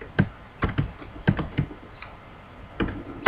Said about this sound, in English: I am typing in a sequence